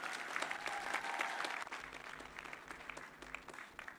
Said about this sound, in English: Let us give them another round of applause, please.